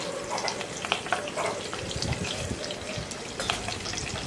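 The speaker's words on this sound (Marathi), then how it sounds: "कढीपत्ता आणि मिरचीची फोडणी, राई टाकणार आहे त्यामध्ये" Curry leaves, chilli and mustard seeds crackling in hot oil as a chutney tempering, a steady close sizzle with scattered pops, no talking.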